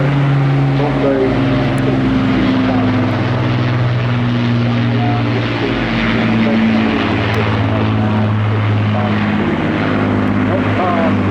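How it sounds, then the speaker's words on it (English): A propeller aircraft flies at the Bournemouth Air Festival 2024 with a loud, steady droning engine hum that holds through the whole stretch, close and dominant with layered tonal whine. "Truly majestic aircraft, and a quite remarkable one as well."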